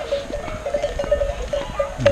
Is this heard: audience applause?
no